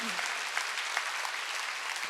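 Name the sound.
applause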